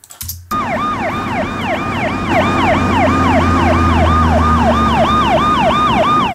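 A loud emergency siren wails in a steady rising-and-falling cycle over a low engine rumble, close and continuous, in a sound-design montage for a US TV series scene.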